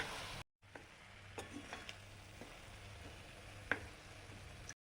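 Paneer rice being mixed in a pan, a soft steady sizzle with occasional spoon scrapes and taps, faint and close, with a brief gap near the start.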